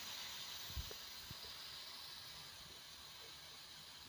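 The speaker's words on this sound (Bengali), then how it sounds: "এবার আমি প্রেসার কুকারে সিটিটা খুলে নেবো।" Steam hisses steadily from a pressure cooker after its whistle is taken off, a faint continuous airy rush with a couple of small knocks near the start.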